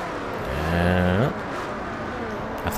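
Race cars in Forza Motorsport 4 slipstreaming, one engine revving up with rising pitch, then shifting and droning on steadily, close and loud.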